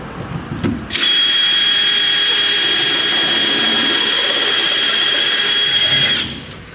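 A power drill bores a hitch hole through the frame of a 1973–1997 Ford F Series truck, a loud, steady high-pitched whine that starts abruptly after a few knocks, holds for about five seconds, then winds down.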